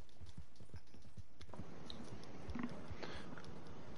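A horse in the Red Dead Online video game clip-clops along in a steady rhythm of soft hoofbeats, fairly faint, with some crunchy rustling toward the end. No one speaks.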